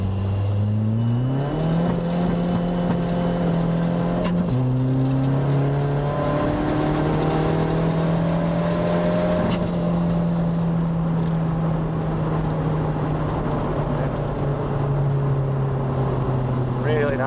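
Skoda Fabia vRS with a tuned 1.9 TDI diesel pulling hard through the gears, engine drone climbing in pitch with a gear change midway, loud and steady from inside the car while someone talks over it.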